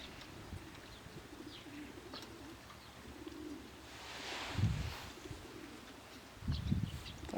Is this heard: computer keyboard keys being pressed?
no